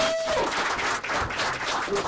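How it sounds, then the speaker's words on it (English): Applause from an audience at a leadership forum, a steady wash of clapping that fills the whole moment, with a brief tonal sound near the start. "Round of applause for that."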